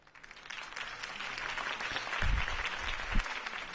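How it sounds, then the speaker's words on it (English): Crowd applause from a political rally in the video game Batman The Telltale Series, a steady roar of clapping that swells slightly midway, with no talking over it. "could have heard that applause"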